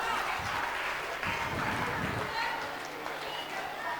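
Children at a school quiz competition for classes 6 to 8 clap together in a broad, dense burst of applause that swells through the middle and lingers, with some voices mixed in.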